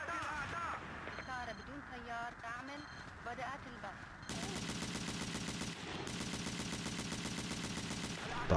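A big mounted gun in the game Battlefield 2 fires in a rapid, continuous automatic burst that starts midway, loud and close. Someone talks over the game's ambient noise beforehand.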